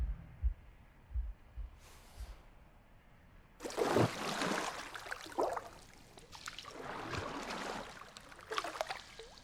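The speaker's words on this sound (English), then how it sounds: "The gurgling of water, a deafening heartbeat." Heavy, muffled heartbeat in The Last Campfire, a low throbbing pulse felt in the bass, alongside a swelling rush of water that breaks in partway through and keeps surging.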